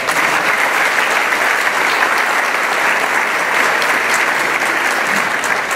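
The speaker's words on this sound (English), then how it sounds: "Let's give him a round of applause." A loud, sustained round of applause for a school principal from a large audience, dense and even clapping that fills the room for about six seconds without a break.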